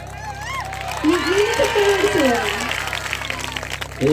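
An audience at a stage comedy show claps in a sustained round of applause, with a voice speaking over it.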